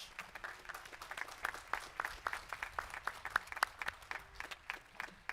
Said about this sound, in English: Let's give a round of applause to these outstanding leaders here at Citrus College.